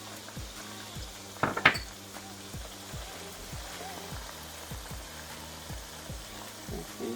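Crayfish tipped into a pot of sizzling designer stew (ayamase), a brief clattering rustle over a steady low sizzle, with regular rhythmic thumps and faint utensil clinks in a quiet kitchen.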